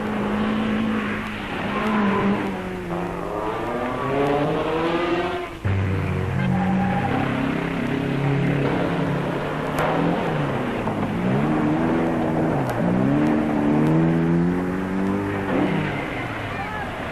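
Rally cars on the 1973 Cyprus Rally roar past one after another, engines climbing and falling in pitch as they accelerate and shift, with a spoken voice running over the sustained motor noise.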